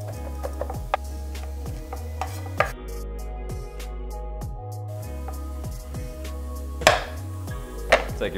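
Garlic cloves smashed flat and chopped on a cutting board, a few scattered sharp knocks and thuds over a steady rhythmic musical backing, with a louder cluster of hits near the end.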